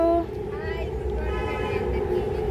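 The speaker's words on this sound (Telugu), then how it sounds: "ఓ రైలు రైలు" A train rolls past with a sustained horn blast sounding at the start, then a steady rumbling drone of wagons continuing throughout, heard from a small garden.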